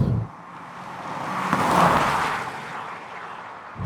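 A 170PS Alfa Romeo MiTO QV with a Garrett turbo revs up while driving, its engine note swelling smoothly to a peak and then easing back, heard alone inside the car.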